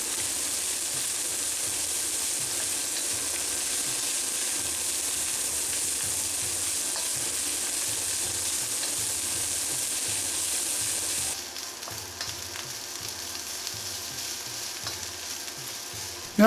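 Part-cooked king prawns frying with egg fried rice in a hot pan, a steady close sizzle with soft rhythmic stirring scrapes, quieter toward the end.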